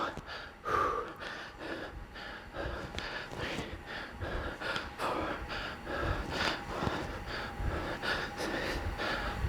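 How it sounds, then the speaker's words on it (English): Heavy, rhythmic panting after a sweaty workout of alternating thrusters, with loud, close gasps and snorting breaths repeating steadily throughout. "The people don't want to hear obnoxious breathing."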